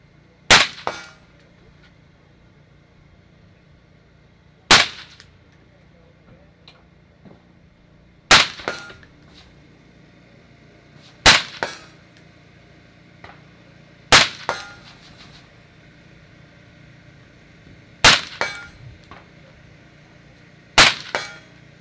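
Gunshots hitting targets at an outdoor shooting range, seven sharp loud reports spaced a few seconds apart, each followed by a brief metallic ring from the target.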